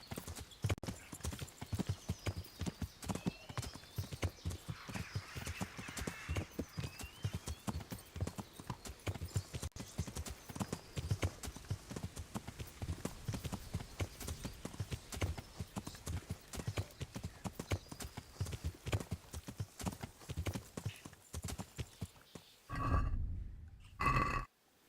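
Horse hooves clip-clop steadily in a medieval video game, a brisk repeated rhythm of hoofbeats with occasional snorts and whinnies, ending with a short louder thump.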